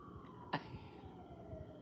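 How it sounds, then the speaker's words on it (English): A faint distant siren drifts in the background, a thin steady tone slowly falling, with a brief louder knock partway through. "I hear a siren outside."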